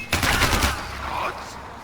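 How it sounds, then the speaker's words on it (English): A short, loud burst of rapid gunfire in Far Cry 4, like automatic weapon fire, close and dense. "Gunfire?"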